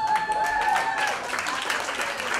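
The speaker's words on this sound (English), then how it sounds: "Give a big applause for Pauline." Audience applause and cheering at a Queen Sweet 16 quarter-final hip hop battle, a dense steady wash of clapping with crowd noise and a voice shouting over it.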